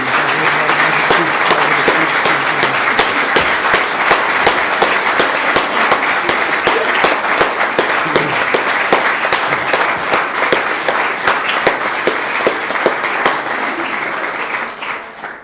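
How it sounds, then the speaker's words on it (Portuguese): At a book launch for a Portuguese cinema book, the audience gives sustained applause for a professor, a thick, loud crowd clapping that runs steadily for about fifteen seconds before easing slightly at the end. "se tiverem palmas, as palmas são para o professor Melo Ferreira e um bocadinho para mim"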